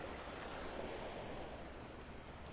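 Surf washing ashore on Vanderbilt Beach in North Naples, Florida, with steady wind buffeting the microphone; a continuous, full broadband roar of breaking waves with no voices.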